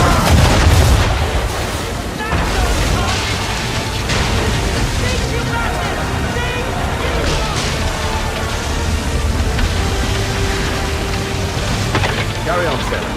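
A volley of cannon fire in Assassin's Creed 3 Remastered: heavy, overlapping booms and rumbling blasts run continuously, loudest at the start, with voices partly heard through the barrage.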